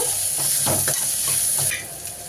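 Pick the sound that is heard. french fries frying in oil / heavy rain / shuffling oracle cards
french fries frying in oil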